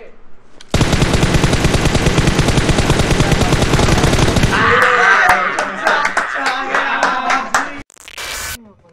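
Rapid automatic gunfire from the mobile game PUBG Mobile rattles loudly and continuously for several seconds, then breaks into scattered single shots and bursts.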